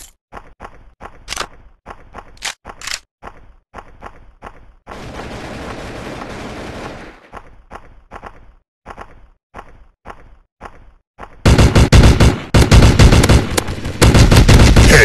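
Block Gun FPS weapons fire in rapid bursts of loud, sharp game gunshots, broken by a stretch of steady noise and ending in a dense, continuous volley of automatic fire.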